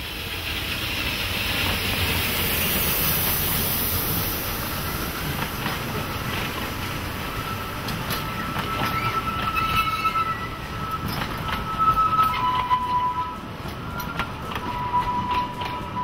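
A narrow-gauge forest railway train at Čierny Balog, Slovakia, rolls along steadily with a continuous rumble, and high wheel squeals and tonal screeches rise over the running noise toward the end.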